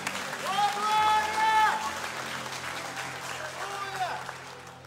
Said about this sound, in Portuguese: Vamos dar uma salva de palmas a Deus por isso?